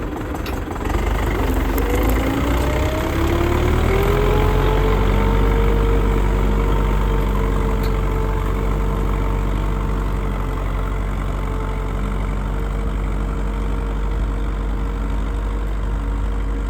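A YUMZ-6 tractor with a PLN-3.35 plough runs loud and close, its engine a steady continuous drone whose pitch rises slightly early on and then holds.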